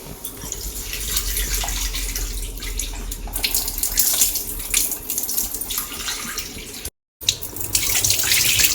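Two tablespoons of lentils get washed under a running kitchen tap, a loud, steady gush of water with splashing that cuts out for a moment before flowing again.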